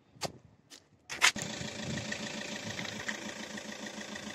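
A Citroën C4 Picasso engine catches after a few brief cranking bursts and settles into a steady, close, rhythmic idle with a fresh air filter, no talk over it.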